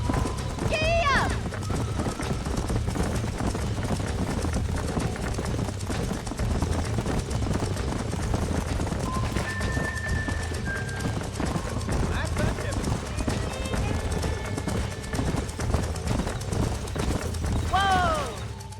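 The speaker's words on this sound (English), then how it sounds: "These are fine horses." Horse hooves clip-clop steadily over a busy soundscape in the video game Red Dead Redemption, with occasional whinnies and people talking throughout.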